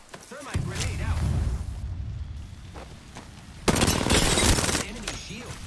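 Bursts of video-game gunfire in a first-person shooter, sustained rapid fire under the player's talk with a louder, denser volley near the end.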